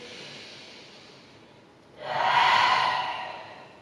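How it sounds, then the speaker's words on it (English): A person in a seated yoga class takes a slow, deep breath in, a soft airy inhale that swells and fades, following a quieter breath. "We're going to take 3 big breaths in."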